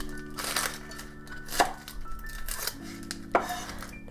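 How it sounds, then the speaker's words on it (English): A knife cuts through an onion on a board while pork is being prepared for roasting, giving three distinct, fairly close chops spaced about a second apart over a steady low background hum. "the next step, we are just going to cut the onion"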